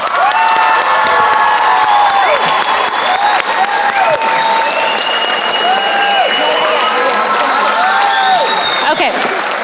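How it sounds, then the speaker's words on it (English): At an adult school graduation, a large crowd claps and cheers loudly, with whoops, high shouts and voices rising over dense, continuous applause throughout. "Let's give a round of applause."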